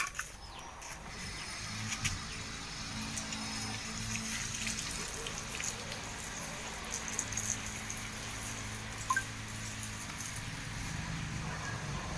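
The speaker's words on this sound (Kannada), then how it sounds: "ಇವಾಗ ನೀರು ಹಾಕ್ತಾ ಇದ್ದೀನಿ" Water pours in a steady, rushing stream for the whole stretch, with occasional small clicks and knocks from something mechanical nearby.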